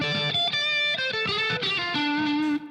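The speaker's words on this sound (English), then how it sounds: "I want to put a little bit of reverb back in." An electric guitar with a low-to-mid gain psychedelic blues rock tone plays a short melodic phrase with sustained, ringing notes and a soft reverb tail.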